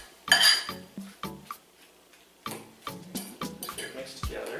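A fork clinks and scrapes against a bowl while guacamole is mixed by hand, irregular close metallic taps and knocks in short bursts with pauses between.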